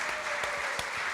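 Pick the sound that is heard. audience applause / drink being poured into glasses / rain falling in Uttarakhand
audience applause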